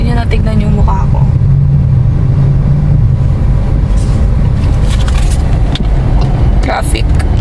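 Steady road traffic with cars passing close by, a continuous loud engine and tyre roar with some wind buffeting on the microphone.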